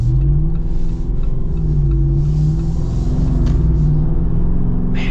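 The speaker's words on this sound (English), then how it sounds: "On the low end, right, again, you got a big naturally aspirated V8, so you got quick response, and then you just got this strong low end." A 2025 Jeep Wrangler Rubicon 392 with a naturally aspirated V8 accelerating, a loud deep engine drone with steadily rising harmonics heard from inside the cabin, with no talk.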